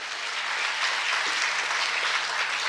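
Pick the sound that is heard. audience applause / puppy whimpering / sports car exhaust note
audience applause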